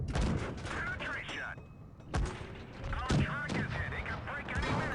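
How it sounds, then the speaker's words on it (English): Tank cannon shots boom in the WOT Blitz battle game, a few heavy blasts with a rumbling, metallic combat bed as a Chinese Type T-34 tier 5 medium tank fights. "We're getting shot"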